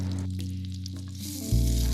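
Butter melting in hot sunflower oil in a pan, a steady close sizzle and hiss that swells louder near the end.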